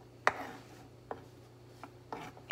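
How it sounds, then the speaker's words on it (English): A knife chops a cubanelle pepper into cubes on a cutting board, giving a few sharp, separate knocks spaced about a second apart, moderately quiet and close, with no talking. "Slice it and just cut it into cubes."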